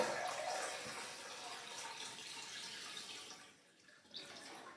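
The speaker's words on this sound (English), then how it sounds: "So we'll add some water." Water pours steadily into a compote-style floral arrangement container built as a posy without foam, a soft continuous splashing that thins out briefly near the end, with no talking.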